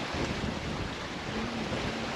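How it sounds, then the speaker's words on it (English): Steady wind and rushing waves surround a sailboat under sail at 8 to 9 knots, a continuous broad wash of air and water with no voices. "The sound of silence except for the wind and the waves."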